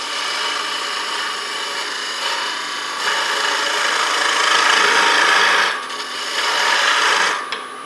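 A bowl gouge cuts wood on a lathe, giving a steady scraping, rasping hiss that swells and eases as the tool engages, continuous and close with no talking.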